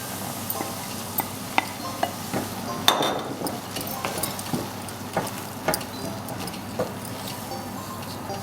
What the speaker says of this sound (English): Next, add 200 grams of soya flour and stir.